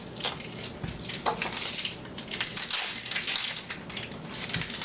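Dry papery crackling of an onion's outer skin being peeled away by hand in a kitchen, a near, continuous rustle with brief crisp snaps.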